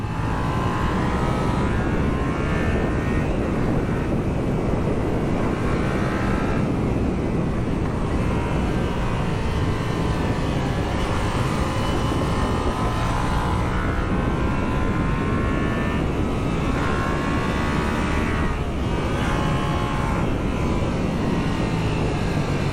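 Yamaha MT-07 motorcycle, 2020 A2 version with the CP2 twin engine, on the move with a steady engine drone that rises and falls slightly beneath heavy wind rush, continuous throughout.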